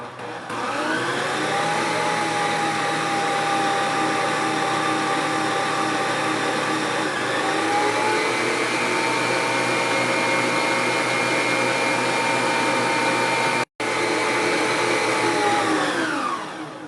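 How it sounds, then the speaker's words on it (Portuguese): An electric hand mixer whips cream into chantilly, a continuous loud whirring drone that shifts pitch slightly as the cream thickens, with one brief cut before it resumes. "Agora, vamos voltar a bater até o ponto de bico."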